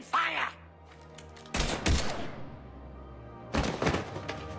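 Gunfire in the game Mass Effect, a couple of heavy, booming volleys with thudding impacts, separated by pauses, near and loud, with a voice speaking at the start.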